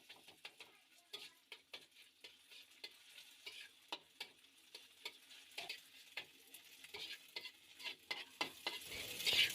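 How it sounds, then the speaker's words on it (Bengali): An egg frying in a pan with a pinch of salt, quiet sizzling punctuated by a series of light spatula scrapes and taps, faint and close, growing slightly busier at the end. "ডিমটাকে একদম ভালোভাবে ভেজে নিব"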